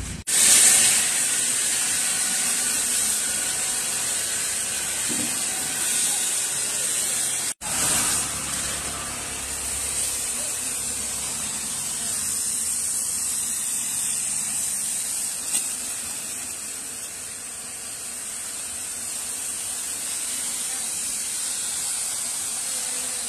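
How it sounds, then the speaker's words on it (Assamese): Pressure washer with a 3 HP motor and 350 bar Italian pump spraying steadily, a loud continuous hiss that runs nearly unbroken, with a brief cut partway through. "এই মেচিন টুত আপোনাৰ 3 HP মটৰ লাগি আছে আৰু 350 বাৰৰ পাম্প লাগি আছে"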